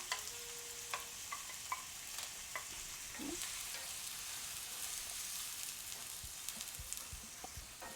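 Chopped onion fries in hot oil in a pan for scrambled tofu, a soft, steady sizzle with a few light stirring clicks. It is faint and close, with no voices.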